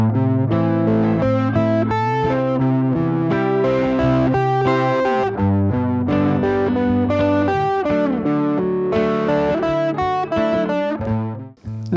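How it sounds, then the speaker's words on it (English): Electric guitar playing an arpeggio-based solo over a chord progression, a steady stream of clear picked notes outlining each chord, up close and loud with effects coloring the tone, no talking. "you play through the chord progression using only the chord's arpeggios"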